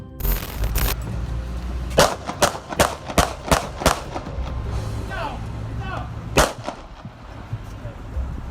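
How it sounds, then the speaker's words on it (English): A police officer fires six gunshots in a fast sequence of sharp cracks, followed a few seconds later by another crack, with traffic and street ambience underneath and a voice talking at times. "Six shots can be counted"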